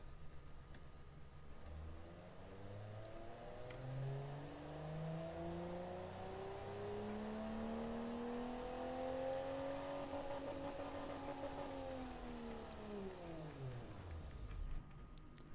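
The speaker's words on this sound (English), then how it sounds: "let's just let the engine run" Simulated car engine from the Automation car-design game idling, then revving up in a long rising, steady drone that peaks and drops away near the end, heard alone without talk.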